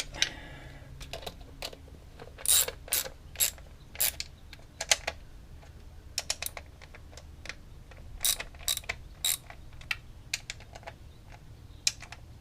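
A 12mm socket on a ratchet wrench tightens the distributor on a Mitsubishi Starion/Conquest engine, making close, quick bursts of ratcheting clicks in irregular clusters with short pauses between, crisp against a quiet background.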